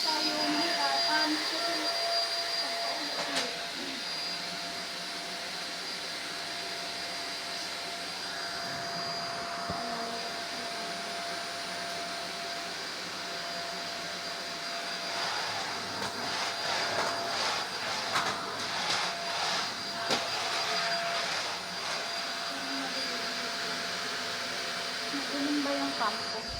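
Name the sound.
vacuum cleaner running while cleaning the floor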